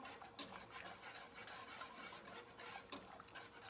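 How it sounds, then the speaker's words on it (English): Homemade ketchup from a Mrs. Wages packet gets stirred in a pot coming to a boil, a soft scraping and swishing rub with faint utensil clinks, quiet and continuous with no voices. "I'm going to give this a stir here."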